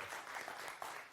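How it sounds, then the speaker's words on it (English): An audience claps for a guest at a televised panel discussion, a brief, dense burst of applause, faint and distant, that holds steady for about a second. "So big round of applause for our guest."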